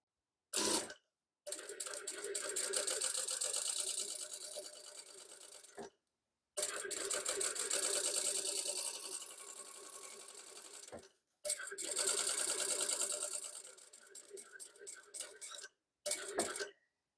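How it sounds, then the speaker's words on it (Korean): A sewing machine stitches a straight line in three long steady runs of fast whirring, separated by brief pauses and ending in a few short stop-start bursts, close and without talk. "노루발 들고 직선 받기를 시작합니다."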